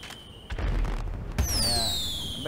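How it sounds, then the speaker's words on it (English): Firework bursting in the video game GTA 5: a deep boom followed by a sharp crack, then a whistling, sparkling tail that fades out over the final second, heard at moderate distance over a low background rumble. "I got one more firework left."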